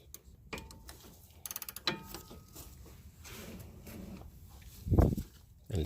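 Ratchet clicks in a short quick burst while tightening the sway bar link nut on a 2006 Ford Escape, close and fairly loud, followed by scattered handling clatter and a thump.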